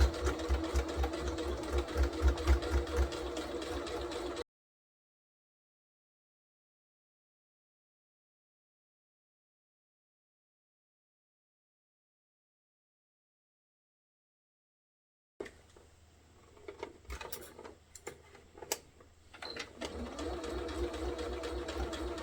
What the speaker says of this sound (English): take it over to the sewing machine and use 1/4 of an inch seam allowance, sew all the way along and stop